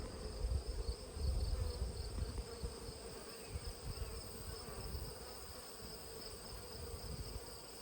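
A honey bee swarm clustered in a tree in a bee yard gives off a steady, dense buzzing that stays fairly loud and continuous throughout, with no voices.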